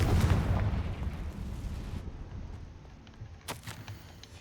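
Confringo fire spell explosion in Hogwarts Legacy, a loud booming blast at the start rolling into a decaying rumble, then a sharp crackling burst near the end.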